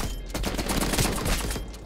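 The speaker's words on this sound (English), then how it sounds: "it's a freaking nail gun" Rapid-fire bursts from a nail gun in the shooter game Black Ops Cold War, a quick rattling string of sharp shots packed close together over about two seconds, fairly loud with no talking.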